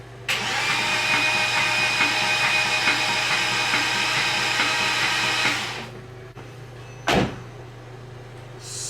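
A Porsche Cayman S engine cranks over on the starter for several seconds, a close, steady whirring churn with a faint rhythmic pulse, then cuts off, followed by a single sharp knock.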